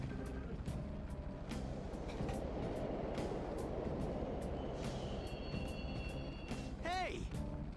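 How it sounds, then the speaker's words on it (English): Subway trains running through a station in the Persona 5 video game, a steady low rumble of rolling cars with clacking transients and a brief squealing whine near the end, while people talk over it. "The trains are totally running"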